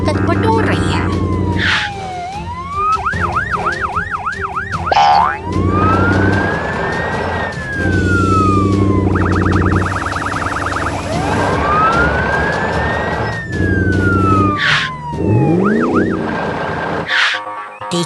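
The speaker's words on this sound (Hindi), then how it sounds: "लोगों पर दौड़ती नीली पुलिस कार और सफेद एम्बुलेंस का लक्ष्य एक ही है, मदद पहुंचाना।" A blue police car and a white ambulance wail with sirens, alternating rapid yelps and long rising and falling tones, loud and close over a background engine rumble and music.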